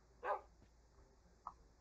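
A single short wolf bark from a Minecraft game sounds clearly at first, followed later by a fainter second yip, against a quiet background.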